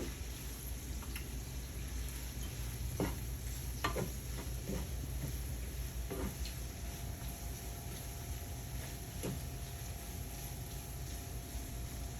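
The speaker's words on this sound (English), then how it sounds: "Keep an eye on that bacon and veggies. Give them a stir." Bacon and vegetables sizzling in a pot, a soft steady fry with occasional scraping clinks as they are stirred, faint and close.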